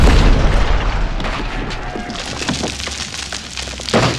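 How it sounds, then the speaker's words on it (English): A deep boom from two cannons exploding together, loud and rumbling, followed by crackling, splintering debris and a lingering low roar that swells again near the end. "That explosion, it took both cannons and everyone around them"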